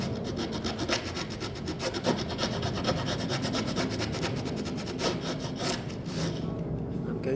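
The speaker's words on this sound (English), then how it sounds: "with the saw make my saw cuts until the stick bottoms out" Hand saw cutting a stick of wood while building a ukulele, a steady rhythmic rasp of repeated back-and-forth strokes, close and loud, with no voices.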